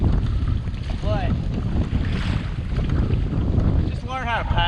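Strong gusting wind blasts the microphone while a bass-fishing kayak rides rough, choppy water during practice for a Georgia tournament, giving a constant loud roar with splashing underneath.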